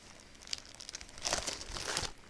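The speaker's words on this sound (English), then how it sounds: "sorry for the crinkling" Close, crisp crinkling of plastic packaging, sporadic at first and then building into a denser rustling burst over about two seconds, with no talking.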